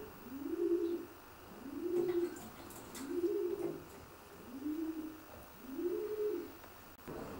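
Racing pigeons coo in a loft, five soft, low, evenly spaced rolling coos heard close against quiet background with a few faint rustles.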